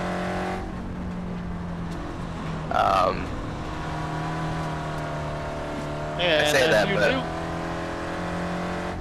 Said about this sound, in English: sprint car is a lot of fun to drive